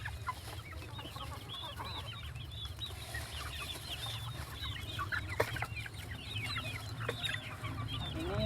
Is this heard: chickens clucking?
yes